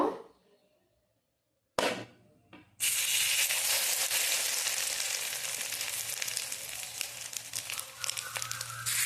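After a short quiet stretch and a couple of clatters, egg-dipped bread slices hit hot oil, two at a time, and settle into a loud, continuous close sizzle with crackling pops.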